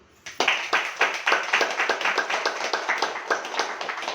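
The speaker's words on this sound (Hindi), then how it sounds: "बीच में ताली बजाओ।" A seated audience at a spiritual class claps hands in a steady run of sharp, evenly spaced claps, close and fairly loud, with no talk over it.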